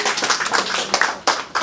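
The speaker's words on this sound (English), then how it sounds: "Please let's give her a round of applause." An audience at a business presentation in Kenya breaks into brief applause, a short burst of scattered clapping heard close by.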